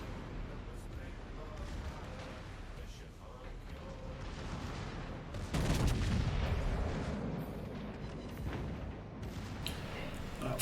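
Naval gun salvo in the World of Warships video game, a loud booming burst of artillery fire around the middle, amid continuous rumbling battle noise with someone talking over it.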